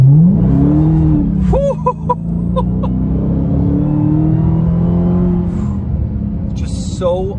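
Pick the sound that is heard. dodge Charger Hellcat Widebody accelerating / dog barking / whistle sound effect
dodge Charger Hellcat Widebody accelerating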